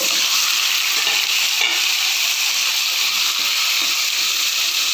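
Chicken pieces frying in a pan for tinola, a loud, dense and steady sizzle with constant hiss close by, no talking.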